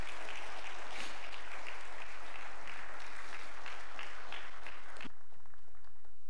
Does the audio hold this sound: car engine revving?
no